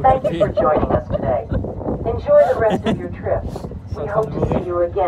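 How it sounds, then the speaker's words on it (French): Gusty wind buffets the microphone outdoors in New York, rumbling low and constant beneath someone speaking French throughout. "on va rien entendre ce que je dis parce qu'il y a du vent"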